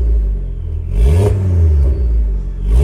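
A cold Ford Focus ST225 fitted with a Mongoose Section 59 exhaust idles with a deep rumble close by, with two gentle revs that rise and fall briefly and no talking.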